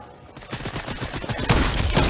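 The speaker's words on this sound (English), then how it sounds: "Still trying on that SMG that doesn't hit a single shot." Rapid bursts of SMG fire in Fortnite, a dense stream of close, loud shots that starts after a brief pause and grows heavier toward the end, with no talk.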